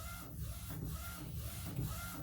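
A DTF printer lays down a design, its print head sweeping back and forth in a steady rhythmic whir with soft periodic mechanical rubbing, close and fairly quiet.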